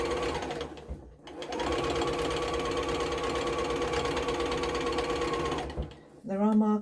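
Sewing machine running steadily while stitching a cushion seam with a half-inch seam allowance, a loud continuous mechanical whir lasting several seconds with a brief pause near the start, then stopping as a voice speaks.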